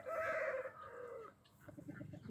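Chickens and roosters kept for breeding, with chicks among them, sound off close by. A loud crowing call comes first, then softer rhythmic clucking, with no talking over it.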